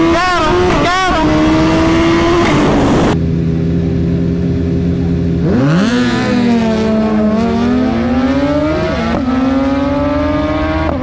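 A 2022 Suzuki Hayabusa sport bike with a few modifications launches at a drag strip from around 2,500 RPM, its engine screaming loudly through rising gears with sharp shifts, close and continuous throughout.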